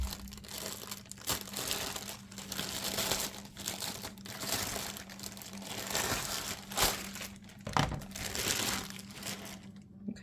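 Crinkling and crushing of plastic packaging being cut off a BenQ eye care lamp, a continuous close rustle with sharper crackles and a few louder snaps, no voices.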